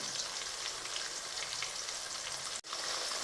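Ginger and green chillies frying in a pan, destined for a lemon and date pickle, produce a soft, steady sizzle that cuts out abruptly for an instant before resuming.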